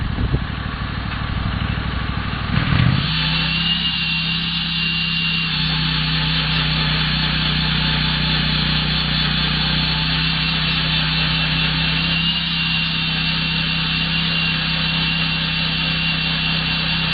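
Lucas portable sawmill in dedicated slabber setup cutting through a timber slab, a steady loud engine drone with a continuous saw whine running unbroken throughout, no voices.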